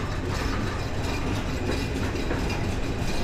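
Inside the Padma Express passenger train rolling out of Joydebpur railway junction at night, a constant loud rumble of wheels and rattling carriages fills the space with dense clatter and no clear pauses.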